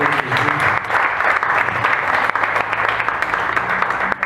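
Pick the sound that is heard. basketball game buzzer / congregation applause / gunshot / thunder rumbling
congregation applause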